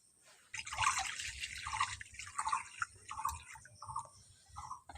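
Eggs lowered one at a time into a pot of water for boiling, giving a series of about six close, soft splashes and plops at uneven intervals, with no talk.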